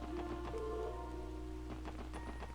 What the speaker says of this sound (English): it's raining today, did you know that?